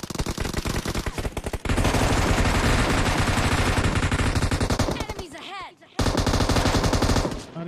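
An M249 machine gun in a video game fires loud, sustained automatic bursts up close, with a brief pause near the end before the firing resumes.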